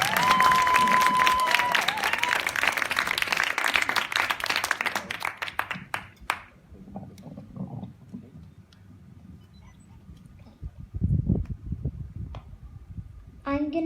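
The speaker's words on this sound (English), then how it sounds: "Can I please have an applause for Scarlett Rose?" Wedding guests at the Megisti Hotel on Kastellorizo applaud Scarlett Rose with brisk clapping and some cheering that dies away after about six seconds, leaving quiet room noise, scattered sounds and voices.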